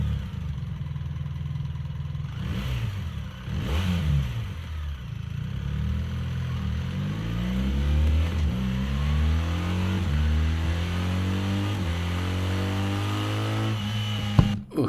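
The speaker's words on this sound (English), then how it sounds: "On the website there is a soundtrack of the engine, and it appears that the new GS sounds exactly the same as the current farting one." A BMW R 1300 GS motorcycle engine idles and then revs, its deep, throbbing note rising and falling with sweeping pitch changes, loud and close with no voices.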